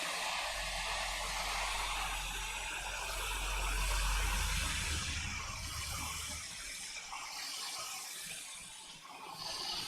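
Quick 857DW+ hot air rework station blowing steadily while preheating, a continuous broadband airy hiss with a low fan rumble that swells slightly mid-clip and then fades, heard alone without talk.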